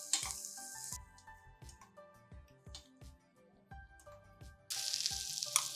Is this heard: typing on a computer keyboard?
no